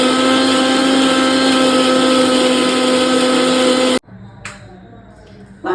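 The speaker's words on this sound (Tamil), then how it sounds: "ஜீரகம் இது எல்லாத்தையும் மிக்சியில் போட்டு அரைச்சி நைஸாக அரைச்சிக்கணும்" A kitchen mixer grinder roars at a steady high whine while grinding beetroot with cumin, then cuts off abruptly, leaving a quieter background with faint clicks.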